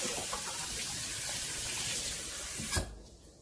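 Tap water runs into a container for Jamaican coconut gizzada dough, a steady faint splashing hiss for nearly three seconds that ends with a brief louder gush, then falls quiet.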